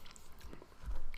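A mouthful of kimchi nachos is chewed close to the microphone, a few soft, crunchy bites in a short, quiet burst with no speech.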